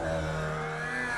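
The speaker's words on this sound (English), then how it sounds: "there's some gearbox issues going on for Sean from the sounds of things" A Formula Vee race car in the iRacing sim at the Long Beach street circuit whines with engine and gearbox noise, a sustained buzzing drone with no speech.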